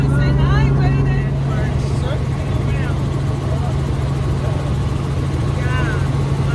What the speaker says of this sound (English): We're in the helicopter.